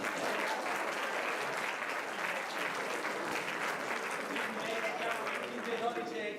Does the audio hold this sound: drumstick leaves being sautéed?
no